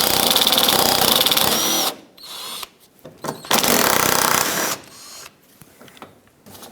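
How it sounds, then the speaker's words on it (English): Two 10mm bolts on a 2007-2014 Chevrolet Silverado 2500 HD front bumper bracket being spun out with a powered socket driver, giving two loud whirring bursts with short pauses and clicks between them. "I'm going to remove these two 10mm bolts"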